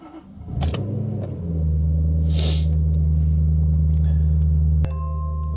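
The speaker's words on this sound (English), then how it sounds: "Let's get the car going." A Jaguar XK8 (X100) engine cranks briefly and fires up, then settles into a loud, steady low idle close by, with a faint chime and a click near the end.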